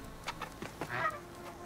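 A chicken clucking in Horizon Forbidden West, a few short close clucks and one brief squawk over a quiet ambient hum.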